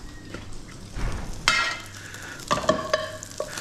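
Lamb mince crisping in a hot pan, a steady sizzle with a few sharp scrapes and clinks of the utensil against the pan as it is stirred, close and without voices.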